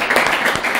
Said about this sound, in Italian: Ragazzi, vogliamo fare un applauso a Daniele per le parole?